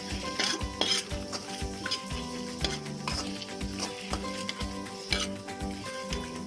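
Coconut, coriander seeds and dried chillies roasting in a kadai, stirred with a metal spoon: steady scraping and clinking against the pan over a soft sizzle, close and continuous, no talk.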